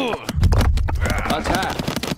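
Archidon archers firing in the game Stick War Legacy: a rapid burst of sharp, clattering volleys mixed with battle noise, loud and close, under overlapping game voices.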